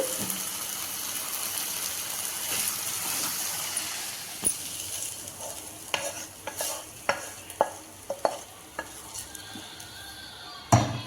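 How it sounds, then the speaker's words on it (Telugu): Chicken cooks in an oily tomato masala with a continuous frying hiss, then a run of sharp spatula clicks and scrapes against the pan as it is stirred; no talking. "ఈ స్టేజ్లో ఉన్నప్పుడు అయితే మనం అందులో చికెన్ కలుపుకోవాలి"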